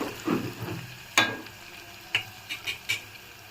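Cashews hitting hot oil in a pan while upma is being made, giving a soft sizzle with a few sharp stir and clatter transients spaced across the clip, close up and with no talking.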